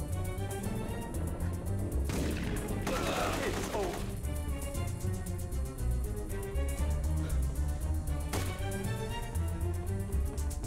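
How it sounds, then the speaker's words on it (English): Gunfire in the video game The Getaway: dense, continuous bursts of shots and impacts layered over a steady music and effects bed, with heavier volleys near the start and again toward the end. "Shooting!"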